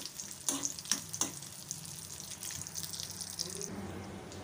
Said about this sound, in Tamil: இந்த முந்திரி திராட்சை வந்து நெய்யிலே வந்து நல்லா ஃப்ரை ஆகட்டும்